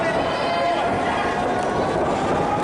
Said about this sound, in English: The crowd is very loud here.